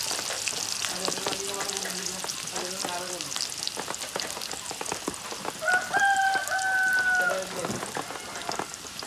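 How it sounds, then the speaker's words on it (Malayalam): Chicken soup is tempered in hot coconut oil, giving a busy crackling sizzle that holds steady throughout, with faint voices and a few tonal sounds in the background. "വെളിച്ചെണ്ണയിൽ താളിച്ചത്."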